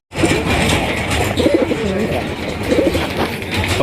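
Pigeons coo in low, throaty bursts close by, a couple of repeated calls over busy background noise at a pigeon market.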